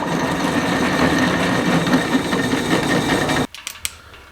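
A drill cuts a 3/8 hole into a jackhammer bit workpiece, a dense steady grinding whir lasting a few seconds before stopping abruptly, followed by a few light metallic clinks.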